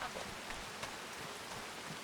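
Rain in the Farming Simulator 25 video game, a steady, even hiss of downpour with faint scattered patter, continuous and fairly soft, with no one talking.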